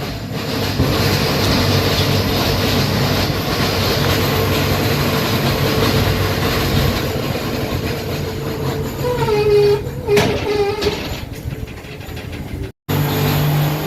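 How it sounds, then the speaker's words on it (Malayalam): A passenger train pulls away from Vanchi Maniyachi junction, a steady loud rumble of rolling wagons with wheel clatter and a brief squeal or horn-like tone partway through, heard close from on board, ending with a short dropout. "വാഞ്ചി മണിയാച്ചി ജംഗ്ഷനിൽ ട്രെയിൻ ഡിപ്പാർട്ട് ചെയ്തു."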